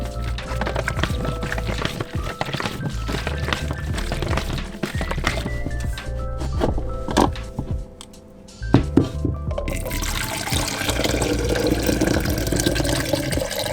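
Water sloshes and pours in a film developing tank as it is filled, shaken about and emptied, with thunking handling knocks through a close, steady run of liquid sound and a brief pause before a brighter final pour.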